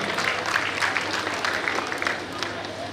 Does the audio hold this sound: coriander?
no